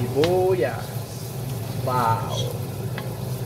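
Onions and garlic sauté in a pot for macaroni chicken soup, giving a steady sizzle with stirring beneath a person's brief talk.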